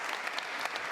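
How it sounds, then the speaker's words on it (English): An audience applauds a conference panel in a brief burst of dense, even clapping from many hands, close and continuous without any voice on top. "So quick round of applause for the panel if I can."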